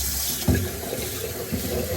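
Hot tap water runs steadily from a faucet into baby bottles at a sink, a continuous close splashing flow with a brief louder gush near the start.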